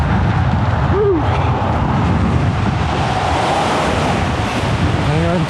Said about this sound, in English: windy on the bridge.